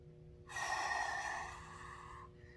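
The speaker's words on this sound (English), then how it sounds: "Big deep breath in." One deep inhaled breath during an elementary physical education exercise class, a clear rushing intake of air lasting about two seconds, close and alone.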